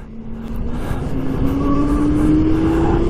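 A Zero S electric motorcycle, a 125-class bike, accelerates with a steadily rising electric whine that climbs in pitch over about three seconds, layered over a constant low rumble of road and wind noise.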